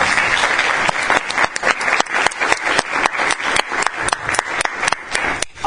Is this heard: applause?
yes